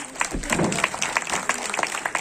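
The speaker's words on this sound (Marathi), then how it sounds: "सगळ्यांनी जोरदार टाळी वाजवावी मगच रंग" A theatre audience at Shivaji Mandir in Dadar applauds during a Marathi stage play, with moderately loud, crisp clapping that carries on evenly for a couple of seconds.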